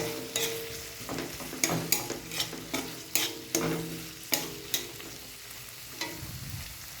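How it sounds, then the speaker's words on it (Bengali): Chopped onion and cumin seeds fry in a wok, sizzling steadily under a series of sharp spatula scrapes and knocks at an irregular rhythm, close up and with no talking. "এবার আমি কড়াইতে সাদা জিরে ফোড়ন দিয়ে পেঁয়াজ কুচো দিয়ে"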